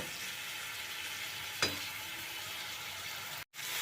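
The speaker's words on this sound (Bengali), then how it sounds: "আলুগুলো এবারে এটাকে কষাবো মিডিয়াম ফ্লেমে আমি এটাকে কষিয়ে নেব" Green jackfruit and fried potatoes sauté in a pan over a medium flame, giving a steady, soft sizzle throughout with a brief scrape of stirring and a momentary drop near the end.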